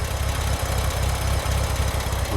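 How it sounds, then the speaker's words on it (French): An air-cooled Porsche 356 SC with electronic ignition idles steadily, a smooth, even low-pitched throb with faint ticking, close and without voices. "Le moteur tourne vraiment parfaitement."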